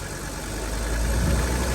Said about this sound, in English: It's hard to hold this idle steady.